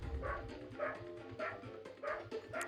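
A cartoon dog in the 102 Dalmatians video game barks five times in a steady, evenly spaced rhythm over a low game-music background, quiet and clean.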